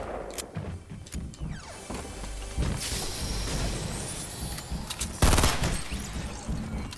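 Shotgun fire in a solo-squads battle royale shooter, several loud sharp blasts in quick bursts amid rapid gunfire and clattering game effects.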